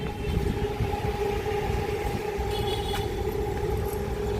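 A train approaching on a railway line on an overcast day, a steady rumbling roar with a sustained tonal hum, moderately loud and continuous, with no talking.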